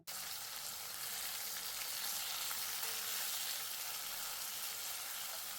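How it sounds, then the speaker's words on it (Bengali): Tomatoes frying with browned onions in a pan for a ghugni made with mutton fat, giving a steady, dense sizzle that holds evenly throughout with no talking. "পেঁয়াজ লালচে করে ভেজে নেওয়ার পর এর মধ্যে দুটো টমেটো কেটে দিলাম"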